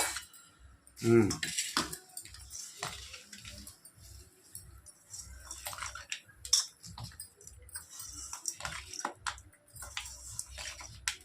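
A spoon clinks and scrapes against a pot, mixing tempering seeds into tamarind rice in a repeated stirring rhythm, fairly quiet, with occasional faint voices.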